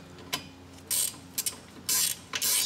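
Half-inch ratchet wrench turning bolts on an LS-swapped car during throttle pedal and transmission cooler line work, with a few close clicks and bursts of rapid ratcheting in an otherwise quiet garage.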